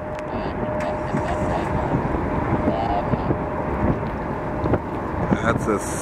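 An Airbus A380 takes off from Boston Logan International Airport, a loud broad jet roar rumbling steadily at a distance with wind buffeting the microphone and a voice talking over it.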